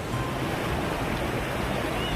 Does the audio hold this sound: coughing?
no